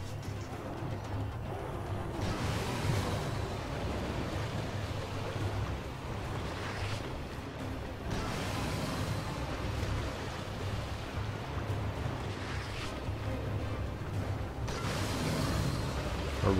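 Muffled water explosions in the video game Dying Light: The Following burst in repeated deep surging rumbles every few seconds over a continuous watery wash, with no talk.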